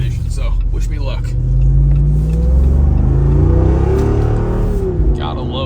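A Jeep 392 V8 engine revs hard while accelerating, a loud, steady low rumble that climbs in pitch over several seconds, with a brief voice near the start and end.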